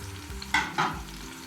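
Chopped onion and tomato fry in a spoonful of oil: a soft background sizzle broken by two quick stirring scrapes, with no voices.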